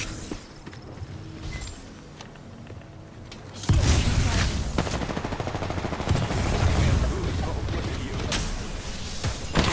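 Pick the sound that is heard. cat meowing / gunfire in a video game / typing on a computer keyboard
gunfire in a video game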